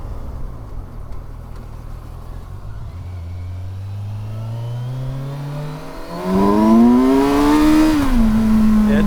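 A 2024 Kawasaki Versys 1000 S motorcycle engine pulls hard, rising steadily in pitch through the gears, then surging louder into a strong rev near the end, with wind roar around it.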